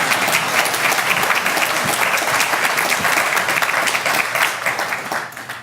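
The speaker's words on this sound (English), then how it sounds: "This is kind of where applause would be appreciated." Warm, sustained applause from mourners at a celebration-of-life memorial service, many hands clapping steadily and fairly loud before tapering off near the end.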